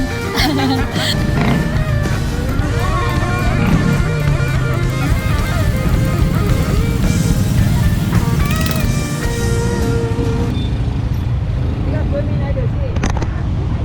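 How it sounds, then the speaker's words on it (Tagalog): Road traffic passes along a busy Philippine route near Marawi, a continuous dense rumble of engines and horns with voices talking over it throughout. "Traffic."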